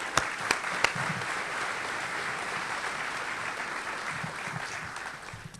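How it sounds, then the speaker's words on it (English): Audience applause at a middle school orchestra concert, a steady broadband patter of clapping from a hall crowd that holds evenly for several seconds after a few sharp opening claps, then begins to thin at the end. "can we have a quick round of applause for our volunteers this year?"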